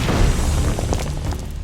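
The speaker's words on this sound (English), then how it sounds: "There is a explosion of debris behind you all" A dense, loud crash of exploding debris and a building smashing apart, a broad roaring burst that rumbles and slowly thins out over a second and a half.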